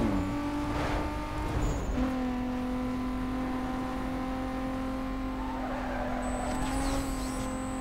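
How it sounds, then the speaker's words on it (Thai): Racing cars in Need for Speed Most Wanted (2005) drone steadily at high revs, with shifting engine tones, a gear change and brief tyre noise as one car overtakes another, loud and continuous with no talk. "เดี๋ยวเดี๋ยว รอเบียดรอเบียด เฮดดี้คนเดิมฮะ นี่แซงปาดหน้า"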